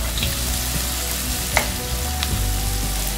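Onions and homemade ginger garlic paste fry in oil as they are stirred for a fish curry, giving a loud, continuous sizzle with a few faint clicks of the spoon.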